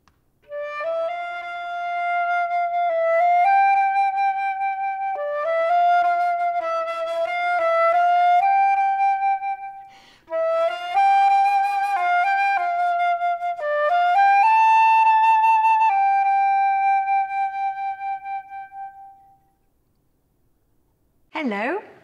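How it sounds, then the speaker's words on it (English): A solo flute plays a clear, pure melody of sustained and stepping notes, close and steady for about twenty seconds, ending with a brief quiet pause and a short voice sound at the very end. "I play the flute, which sounds like this."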